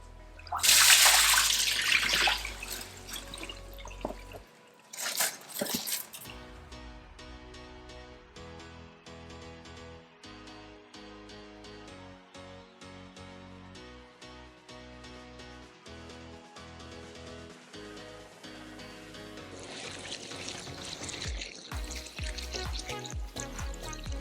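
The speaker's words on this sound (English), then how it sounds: "So we're going to rinse the rice to remove all the enzyme inhibitors" Rice being rinsed under water, with a loud rushing splash of running water at the start, a second burst around five seconds, then quieter trickling and sloshing that swells again near the end.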